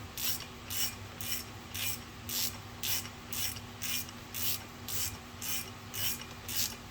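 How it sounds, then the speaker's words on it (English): Close ratchet clicks rhythmically as it tightens bolts on a Suzuki SV1000 motorcycle fork, about a dozen even, rasping strokes in steady succession with no talk over a faint background hum. "I will grab the ratchet."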